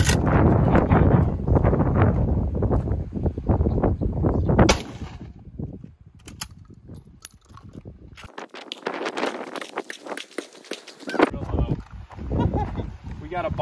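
Surplus 7.62x54R rifle rounds fired at AR500 steel armor plate with a build-up coating, heard as a few loud, sharp outdoor reports mixed with wind noise and spoken commentary.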